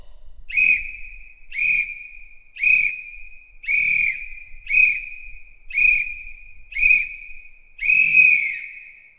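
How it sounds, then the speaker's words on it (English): Eight short, bright whistle notes in a steady rhythm, each a quick high toot with a slight downward slide, clear and alone. "because the whistle, you can play really short notes or you can play really long ones as well"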